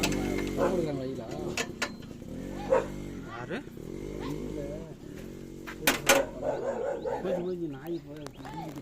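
A farm dog near a Mahindra 575 DI tractor yips and barks in short bursts amid people talking, with a low engine drone underneath.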